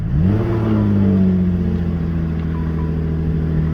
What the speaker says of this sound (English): It's got a really aggressive bark as the vehicle starts up.